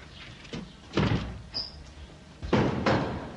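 Heavy pounding on a door during a Civil Guard raid: several loud, separated thumps in irregular bursts, close by, with no talking.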